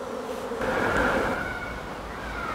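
Honey bees buzz steadily around an open hive during an inspection while the roof is set back on, a dense, continuous drone that swells slightly midway and stays close and fairly loud throughout.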